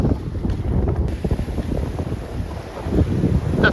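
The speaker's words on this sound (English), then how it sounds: "tide's going up, wind's pushing us here" Strong wind rushing across a sailing boat on a rising tide, a loud continuous roar and buffeting against the microphone with water sloshing underneath.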